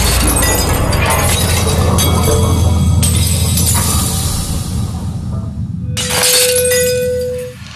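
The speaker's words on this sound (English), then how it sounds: "Slow motion footage shows the glass wobbling like jello until it can take the resonance" A glass shatters from resonance driven by a guitar tone, a loud sustained crash and splintering spreading over several seconds, then a fresh burst of breaking with a lingering tone before it fades.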